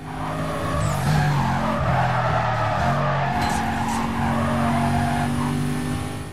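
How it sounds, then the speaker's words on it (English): Continuous tire squealing and skidding in the video game Need for Speed: Carbon over a steady engine drone, loud and sustained throughout with no voices. "The tires love to make noise."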